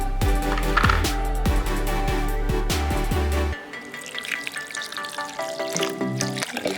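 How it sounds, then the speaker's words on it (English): Water poured into a blender holding soursop for juice, splashing and trickling steadily, with a strong tonal music bed over the first half. "then we're going to pour some water in."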